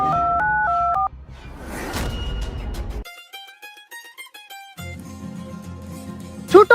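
Telephone dialing tones: a run of short electronic beeps at shifting pitches, first a few alternating tones, then a quick burst of rapid key presses after a sweeping noise, loud and close.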